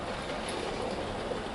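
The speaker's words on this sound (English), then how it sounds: "I've now got Bluebell pulling a goods train." Hattons SE&CR P Class model locomotive 'Bluebell' hauling five goods wagons and a brake van, a steady close rolling rumble with faint clicking from the track, no voices.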